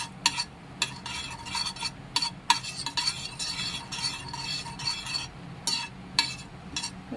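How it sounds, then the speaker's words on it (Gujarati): Batter being stirred and mixed in hot oil, a run of quick, fairly quiet utensil scrapes and clinks against the pan over a faint sizzle, with no talking. "બધું આપણે સારી રીતે મિક્સ કરી લેવાનું છે."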